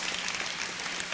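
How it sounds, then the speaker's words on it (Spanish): A church congregation claps loudly and continuously during a sermon, a brief dense patter of many hands close and even throughout. "Aplaude fuerte al Rey."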